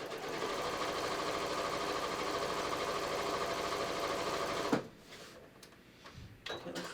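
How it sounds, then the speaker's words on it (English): A sewing machine runs a triple zigzag stitch through a double layer of fabric, a steady, close whirring hum for several seconds that stops abruptly, followed by faint handling noises. "So I'm going to sew through a double layer of fabric"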